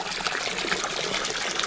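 Water pouring steadily into a bath, a continuous close splashing gush and trickle with no pause, fairly loud.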